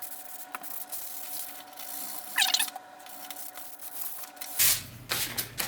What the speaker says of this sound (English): So I'm going to take my 320 grit sandpaper, the same one we started with, and give it a good sanding.